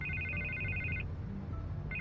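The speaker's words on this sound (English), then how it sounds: "I can't get the phone to stop ringing." A telephone rings in the Batman Telltale Series video game, a bright electronic trill lasting about a second, breaking off, then starting again at the end over a low background hum.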